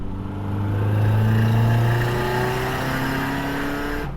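A Nissan Silvia S15 Spec R running on E85 revs nearby, its engine tone climbing and easing in a sustained, loud drone across the whole stretch, with no voices.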